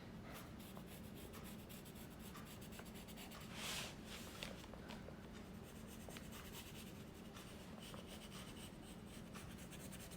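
A pen scratches steadily around a mask outline traced on paper held on a hard clipboard: continuous soft, close rubbing strokes, quiet throughout, with no voices.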